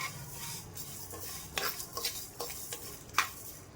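Cumin and fenugreek seeds dry roasting in a pan, a faint dry rustle with scattered crisp ticks and scrapes as a spoon stirs them, a few sharper clinks near the end.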